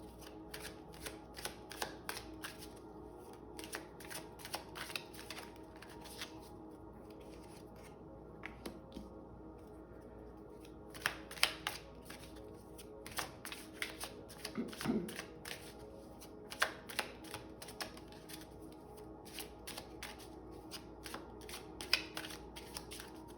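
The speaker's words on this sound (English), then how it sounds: "bear with me while I get a few cards out here" Tarot cards are shuffled and dealt close by in a quiet room, with soft rhythmic riffling and sharper snaps as individual cards are laid down.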